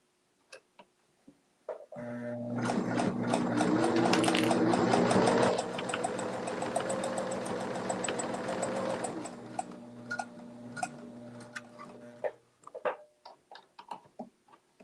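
A sewing machine stitches fabric for a bowl cozy in a steady, buzzing run of about ten seconds, then stops, followed by scattered light clicks and handling taps.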